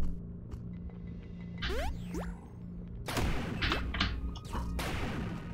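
Double-shot weapon firing in the video game Hell Is Other Demons: a few sharp, punchy bursts with springy effect sounds, loud and close, separated by short gaps.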